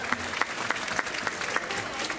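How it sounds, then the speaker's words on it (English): A school audience at an elementary fourth-grade band concert claps for the clarinet section, a steady burst of many hands with sharp individual claps standing out through the short stretch. "Give me a round of applause for clarinets"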